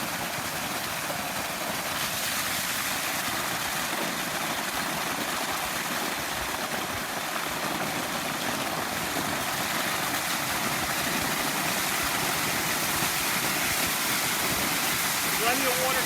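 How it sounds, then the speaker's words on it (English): Water from a hydrant rushes through hose into a fire engine's pump suction, a steady broadband hiss and roar that holds evenly for the whole stretch with a low engine idle underneath. "Now we can see sending water to the pump suction."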